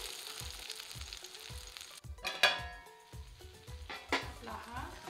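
A breakfast snack sizzles as it is flipped in a kadhai, with steady close frying, clinks of a utensil against the pan and a scraping turn partway through, and a voice speaking quietly in the background.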